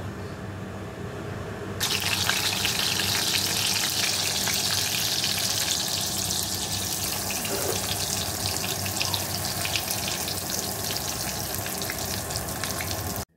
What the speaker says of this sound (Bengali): বেগুনটা আবার এই যে তেল দিয়ে দিয়েছি কড়াইতে, এবার ভাজবো